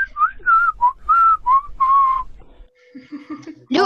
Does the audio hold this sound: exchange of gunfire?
no